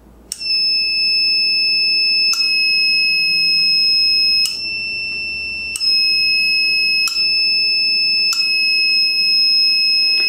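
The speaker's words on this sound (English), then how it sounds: "I'm now going to connect the solar cells to the buzzer" A solar-cell-powered electronic buzzer sounds shrill, continuous and loud, with sharp clicks roughly every two seconds and a brief dip in loudness partway through.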